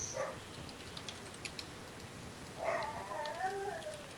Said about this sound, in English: Oh, there go the dogs.